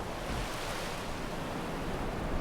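Water ambience in the Skyrim video game, a steady, full rushing wash like surf or flowing water, continuous and fairly loud with no voices.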